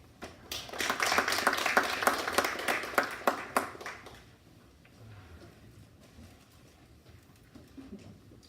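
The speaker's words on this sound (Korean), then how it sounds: "큰 박수 환영해 주시기 바랍니다." Audience applause welcoming a speaker at an indoor forum, a few seconds of dense clapping that swells quickly, then tapers to scattered claps and quiet room noise.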